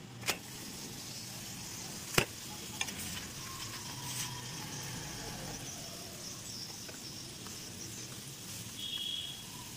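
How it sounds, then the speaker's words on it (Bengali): Sattu paratha fries in oil on a pan with a soft, continuous sizzle, broken by a couple of sharp clicks and taps near the start and faint scraping throughout. "প্রথমে সেঁকে নেবো, তারপরে তেল দিয়ে করবো।"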